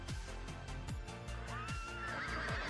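A horse in the UO Outlands video game neighs with a long whinny over a looping background of game music and rhythmic hoofbeat-like clopping, with no talking.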